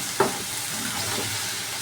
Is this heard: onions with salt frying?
yes